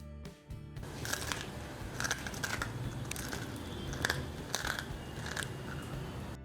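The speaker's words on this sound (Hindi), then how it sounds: "तो आपने सुना ये काफ़ी क्रंची सी और कुरकुरी सी है" Repeated crisp crunching bites and chewing of a crunchy homemade rice flour chakli snack flavoured with asafoetida and urad dal, made by hand without a machine, close and steady with no talk.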